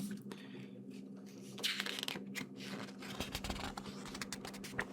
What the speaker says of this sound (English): a little bit of page turning is quite nice